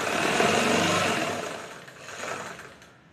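A sewing machine stitches a saree hem in a short, close whirring run that rises, dips, swells again and then stops, with no voices.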